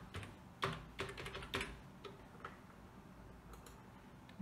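Fingers typing a name into an online form on a computer keyboard, close and fairly quiet, with a few sharper key clicks among lighter irregular tapping, no voice.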